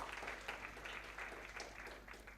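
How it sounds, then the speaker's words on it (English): Applause from an audience at a youth academy orientation, steady broadband clapping at middling loudness throughout, with a voice briefly audible under it. "please let's clap for them."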